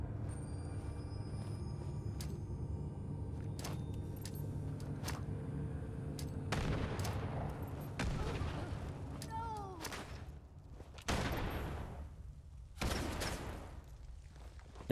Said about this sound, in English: And we're gonna use a couple grenades here.